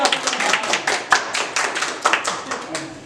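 Hands clapping after a Bhojpuri song: rhythmic, close claps landing roughly several per second in an even beat, with voices talking alongside.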